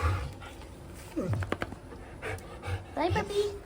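A pet dog named Bubba pants in short, close bursts during a brief goodbye at home, with soft breathy huffs coming and going amid quiet background noise.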